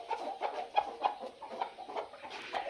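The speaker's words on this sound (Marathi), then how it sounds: "जेवढे दिसतात सगळे कुडूक कोंबडे आहेत आपले" Broody desi hens in a village egg-brooding setup cluck softly and continuously, with low murmuring calls repeating close by and no voices.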